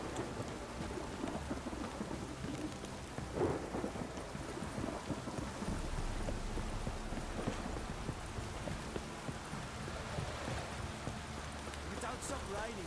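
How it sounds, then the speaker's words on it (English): Steady rain and rolling thunder in The Witcher 3 video game, a dense continuous downpour with a louder thunder swell partway through, under faint background voices. "If it don't stop raining, my arse will rot off."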